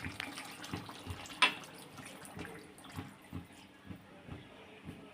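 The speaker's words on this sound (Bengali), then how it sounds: "জল দিয়ে দিলাম, উষ্ণ গরম জল।" Warm water pours into a cooking pot as faint, uneven splashes and trickles, with soft knocks of a pot or utensil scattered through.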